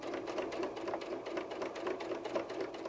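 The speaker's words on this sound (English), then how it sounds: "We're going to stitch both back sides of the arm in place." A sewing machine runs in a steady, rapid, close-up rhythm as it stitches the fabric arm of a bear softie, with no voices.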